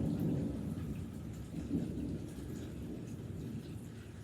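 Rumbling thunder rolls under steady rain in a low, continuous storm bed, with swells of rumble near the start and middle.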